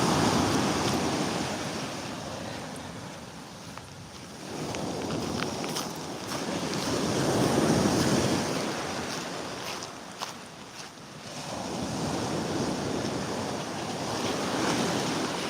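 Ocean waves wash onto a beach nearby, swelling and receding in long broad surges of roaring surf with steady wind noise against the microphone.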